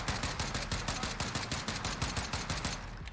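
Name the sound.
rapid fire DMR gunfire in video game Warzone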